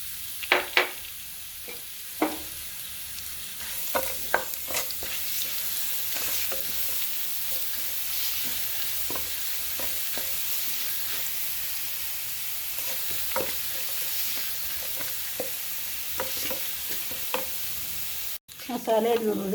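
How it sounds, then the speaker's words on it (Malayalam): Ground masala sizzles steadily in hot oil with dried red chillies and curry leaves, a continuous close frying hiss broken by scraping stir strokes throughout, with a brief clatter near the end. "ഇനി ഇതിലേക്ക് നമ്മൾക്ക് ആദ്യം ഇപ്പോൾ വറ്റൽമുളകും കറിവേപ്പിലൊക്കെ മൂത്ത് നമുക്കതിലേക്ക് ആ പൊടിച്ച് വെച്ച മസാല ഇട്ട് കൊടുക്കാം."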